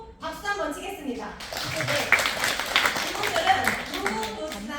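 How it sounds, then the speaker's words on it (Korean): Audience clapping breaks out at a healing camp session for new recruits in Daejeon, a dense wash of applause rising after a spoken voice and continuing steadily to the end. "박수 한번 치겠습니다"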